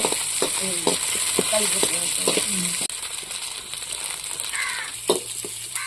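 Chopped tomatoes sizzle and fry in a pan for a Tamil dried anchovy curry, with a spoon scraping and clinking in steady stirring strokes over a constant hiss of hot oil.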